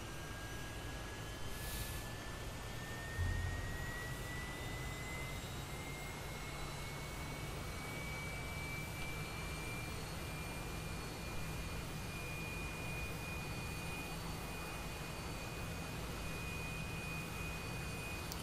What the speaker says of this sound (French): C'est le petit ronronnement là du moteur.